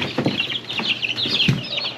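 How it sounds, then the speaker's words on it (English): Young chickens cluck and chatter nearby in short, irregular bursts, with a deeper rooster's cluck mixed in among the birds. "Yep, that's a rooster."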